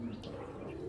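A brief burst of close, low pigeon cooing from Giribaj birds in a loft, with a short chirp near the start.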